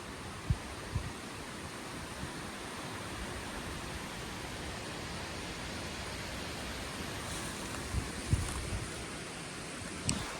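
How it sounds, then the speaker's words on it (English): Wind blowing through trees beside a soybean field on a warm October day, a broad steady rushing hiss with a few faint soft thumps, heard without voices. "the wind today going through the trees is just amazing"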